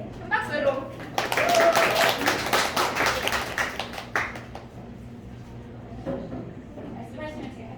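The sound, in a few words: audience applause for a presenter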